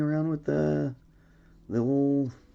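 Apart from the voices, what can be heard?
No everyday noise stands out behind the speech.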